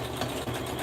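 Sewing machine steadily stitching across a sweatshirt, a continuous close mechanical whir with a faint rapid needle rhythm, no pauses and no voices.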